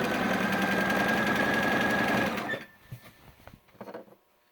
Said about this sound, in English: I'm going to sew the rest of the seam.